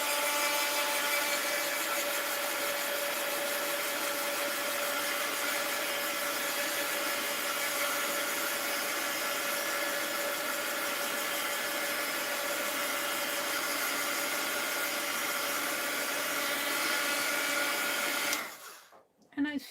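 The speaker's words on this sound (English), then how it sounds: "Hit that with the heat gun." A heat gun blows with a steady, loud whirring hiss for nearly twenty seconds while drying a mixed-media art journal page indoors, then cuts off abruptly at the end.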